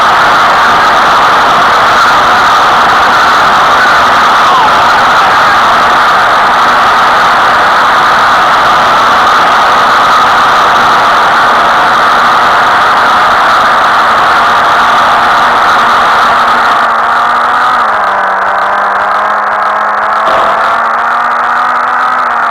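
Motorbike engine from an Indian bike video game, a steady droning hum with a low pitched tone that holds for most of the stretch, then dips and climbs slightly near the end as revs shift, loud and continuous with no talk.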